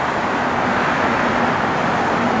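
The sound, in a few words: traffic driving down the road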